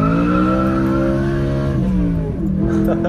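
A BMW M3 E92 with a straight-pipe exhaust drifts around a roundabout, its loud, sustained engine note climbing in pitch close by. Tire squeal runs under the exhaust as the car slides through the turn.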